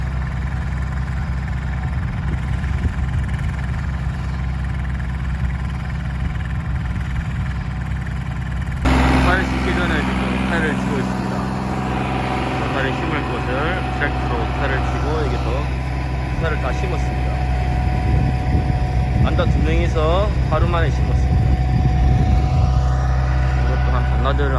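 A tractor tilling soil in a field being prepared for planting bracken fern roots drones steadily nearby with a low, constant hum and occasional rattling, while voices talk intermittently over it.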